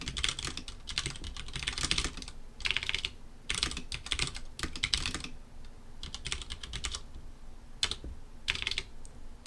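Someone types code for an area-of-a-circle calculation on a computer keyboard: quick bursts of close, crisp key clicks with short pauses between runs and a few lone taps near the end.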